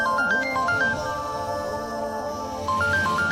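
A phone's electronic ringtone plays a bright stepped melody, pauses, then starts again near the end, fairly close and clear.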